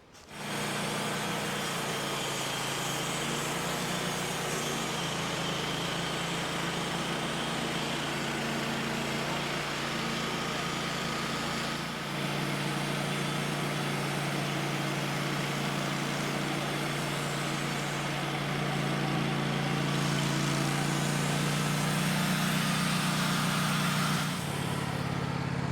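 Woodmizer sawmill sawing a spruce log, a steady loud engine drone with a continuous blade whine that builds slightly toward the end of the cut.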